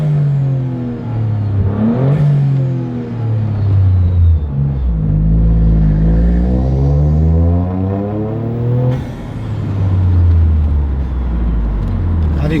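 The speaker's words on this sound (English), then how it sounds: "as the turbo is just winding down, it just is going shh" Toyota GR Corolla with an MST intake, its turbocharged engine rumbling nearby through repeated rises and falls in revs, each easing off with a faint turbo wind-down; a voice speaks intermittently.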